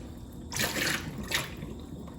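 Running water pours into a container of berries being washed and spills over the rim, two bursts of splashing rushing above a steady low hum, with no voices.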